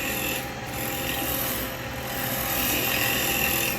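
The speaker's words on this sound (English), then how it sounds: "if you've got a roughing gouge, use a roughing gouge" A roughing gouge cuts laburnum wood spinning on a lathe, giving a steady, close, continuous rasping hiss with a constant motor hum underneath and no breaks.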